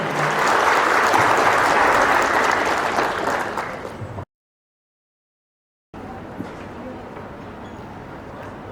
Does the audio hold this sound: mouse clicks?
no